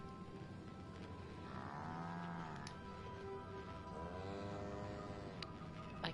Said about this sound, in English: No one knows why the cows are here.